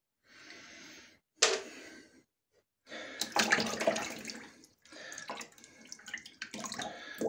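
A tap runs in short bursts as water wets a shaving brush: a brief splash, a sharp gush, then longer uneven runs of water, close and fairly quiet.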